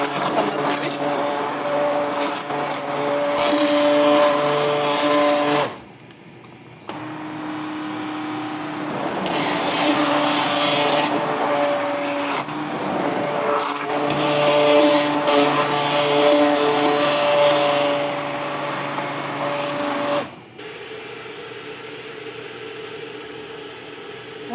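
A handheld blender whirs through a pot of lentil soup, a loud steady motor drone running in long bursts with a short pause near the middle and a quieter stretch at the end.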